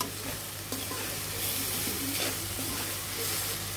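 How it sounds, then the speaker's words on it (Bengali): Chicken rolls with carrot fry lightly in a pan, a loud, continuous close-up sizzle and hiss with occasional stirring movements, no talking. "আমরা চিকেনটা বেশি ভাজবো না, আমরা এখন নামিয়ে নিব, হালকা ভেজে নিব।"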